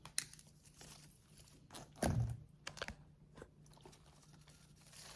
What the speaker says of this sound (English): I'm going to cut these pipe cleaners down a little bit.